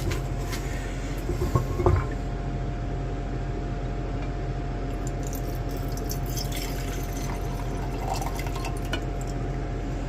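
Liquid is poured off from a vessel during karat gold refining, a steady trickling and dripping under a constant low background hum, with a few faint clinks near the start.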